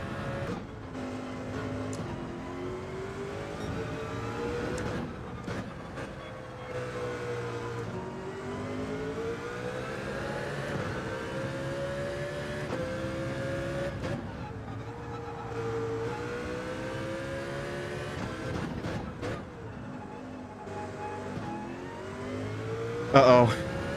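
Race car engine from a racing video game on the final lap at Deep Forest Raceway, a loud continuous whine rising and falling through gear changes and revs, with a commentator talking over it.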